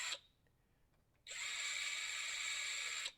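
Electric drill boring through the plate of an Hsslab Ghost Trap to fit a GhostLab42 brass banjo Legris fitting: a brief whir, a pause, then a steady, loud, high whine holding for about two seconds before cutting off.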